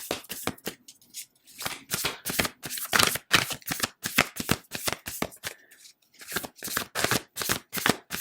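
Tarot cards being shuffled by hand, a long run of rapid crisp riffling bursts with brief pauses between, close and fairly loud with no talking.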